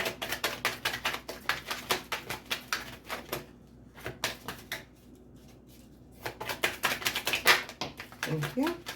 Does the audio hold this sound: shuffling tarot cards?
yes